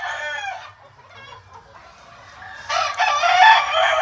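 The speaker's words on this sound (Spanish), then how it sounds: "Este viene siendo un gallo Lazy Roundhead con dos gallinas Clarets." Lazy Roundhead gamecock kept with two Claret hens, crowing one drawn-out call that fades, then close, loud clucking and squawking from the fowl near the end.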